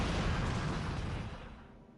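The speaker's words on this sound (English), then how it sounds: "You just caused a mass explosion." Leaking gas tank exploding in a kitchen in the survival horror game Resident Evil 3, a heavy rumbling roar with deep low-end weight that gradually dies away, heard alone.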